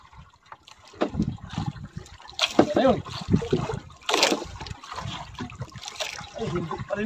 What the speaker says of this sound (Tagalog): Oh, lakas ng tulo talaga.